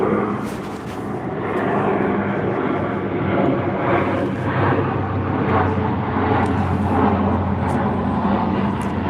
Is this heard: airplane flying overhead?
yes